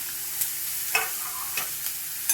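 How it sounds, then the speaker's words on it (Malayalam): Soft sizzling with several scraping strokes as banana-flower stir-fry is stirred around a frying pan, brief and quiet, no speech. "കുറച്ചൊന്ന് ഇളക്കി കൊടുക്കാമേ"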